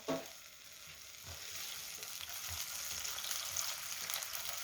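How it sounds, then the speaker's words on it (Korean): Garlic and frozen green onion stir-fry in oil in a home kitchen pan, giving a soft, steady sizzle that grows slightly louder over a few seconds, with faint stirring and no talk. "마늘하고 파부터 볶아주세요"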